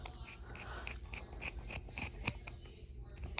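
Scissors snip repeatedly, trimming the ends of a mala bead cord, in a quick run of soft, close cuts against a quiet background.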